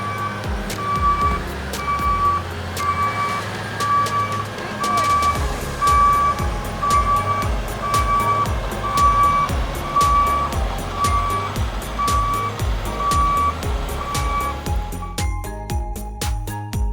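A remote-control toy truck backs up with a steady string of sharp, evenly spaced reversing beeps over a whirring motor, close and clear, running for a long stretch before a brief change in tone near the end.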